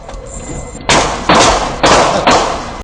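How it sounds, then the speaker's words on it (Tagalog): Repeated heavy thuds and impacts from a car collision on Roxas Boulevard in Pasay, four loud broadband blows in quick irregular succession after a quieter lead-in, with no talk. "Banggaan na nauwi sa barilan."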